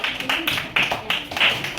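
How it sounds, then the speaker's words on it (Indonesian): A small classroom group claps for a student: a short, uneven patter of hand claps in a few bursts, fairly close and modest in loudness. "Tepuk tangan untuk Maihani."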